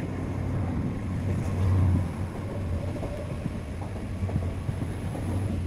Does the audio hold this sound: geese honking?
no